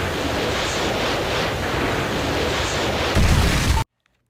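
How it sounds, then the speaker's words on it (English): A Predator missile explosion in Call of Duty: Modern Warfare gives a loud, sustained roaring rumble. It swells harder near the end, then cuts off abruptly into silence. "Friendly Predator missile inbound."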